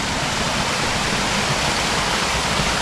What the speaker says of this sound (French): Une petite cascade comme ça là.